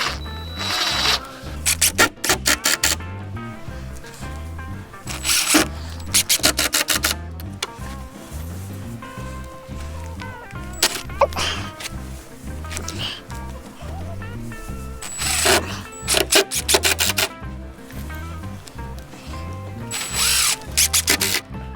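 A power drill drives 1 5/8 inch screws into wood on a chicken tractor build. Several loud revving bursts come close up, separated by short pauses.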